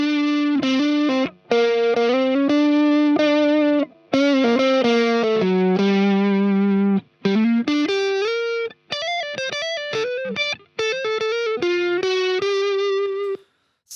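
A distorted electric lead guitar shaped with dynamic EQ plays a melodic line of sustained, sliding notes and quick phrases, loud and alone with a saturated, harmonically rich tone.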